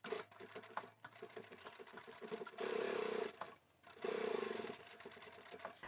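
A sewing machine stitches a pocket onto a scrap-fabric tote bag in two short, steady bursts of rapid whirring, with quiet handling and rustling of fabric between them.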